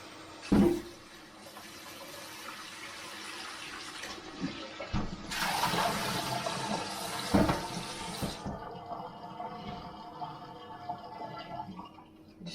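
Kitchen sink tap running as a crockpot is rinsed, a steady close stream of water with splashing bursts partway through, tapering off near the end.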